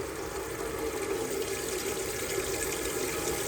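A kitchen tap runs steadily to rinse a canning jar, a continuous close rush of flowing water with splashing and no talk.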